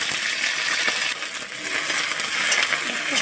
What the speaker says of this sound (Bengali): তেল গরম হয়ে গেছে, এবার ঢেঁড়সগুলো ভেজে নেব।